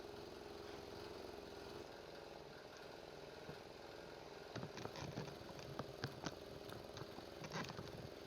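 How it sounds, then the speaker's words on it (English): A small diesel engine running on hydrodiesel chugs steadily, a constant rough mechanical drone with some irregular knocks toward the end, heard alone. "the engine is definitely running on hydrodiesel"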